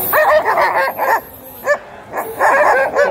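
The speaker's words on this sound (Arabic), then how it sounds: "كلاب" Several guard dogs bark and yip loudly in quick, overlapping bursts close by, with short pauses between barks, at a Friday dog market.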